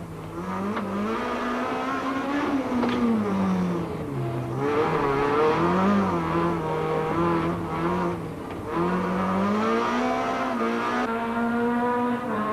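Rally car at Cape Rally 2003, engine screaming near the rev limiter with repeated rising and falling pitch sweeps, loud and close as it charges past, with a hint of tire noise.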